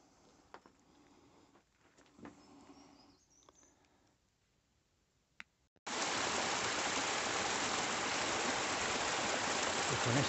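Stream water rushing through a ravine on a popular canyon route, faint and scattered at first, then a sudden steady loud wash of flowing water for the last several seconds.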